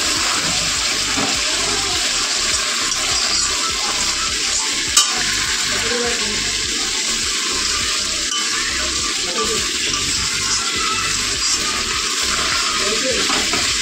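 Potatoes fry in a pan with a loud, steady, broadband sizzle that runs unbroken throughout, with occasional stirring scrapes and faint voices in the background.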